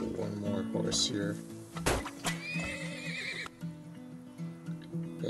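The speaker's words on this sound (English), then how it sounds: "I get one more horse here." Horse neighing in the video game Termoil, several loud whinnies with clip-clop hoof sounds amid game music, while someone talks over it.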